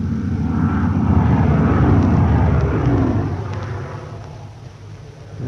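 Propeller aircraft drone overhead during a wartime air raid, a loud low engine roar building and holding for several seconds before fading away, with no voices over it.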